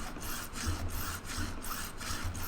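Steady back-and-forth strokes of a file beveling the fret ends on a guitar neck, a rhythmic rasping scrape repeating about every half second, close and fairly quiet with no voices.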